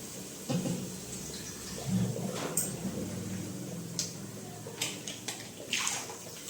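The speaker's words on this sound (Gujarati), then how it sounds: "આમાં જરા કેટલું પાણી નાખીએ અને આપણે આમાં નાખી દઈશું" Water splashes into a cooking pot of tomato gravy and grated ginger in a home kitchen, a soft, close pouring rush with a few clinks of utensils and no voices.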